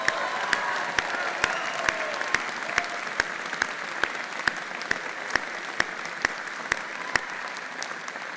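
A crowd applauding steadily, dense clapping filling the space for several seconds with a few sharper claps standing out.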